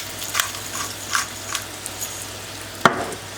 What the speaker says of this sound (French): Je les ai juste fait cuire comme ça hein, dans de l'huile d'olive pour les faire bien dorer